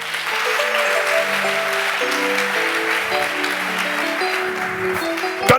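A church congregation claps in sustained applause, dense and steady, with sung or held tones running through it.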